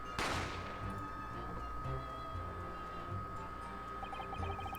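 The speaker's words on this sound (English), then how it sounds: "a gunshot rang in my ears" A single sharp gunshot from The Great Ace Attorney Chronicles cracks out near the start, loud and close, then leaves a steady tonal game soundscape ringing beneath it for the rest of the moment.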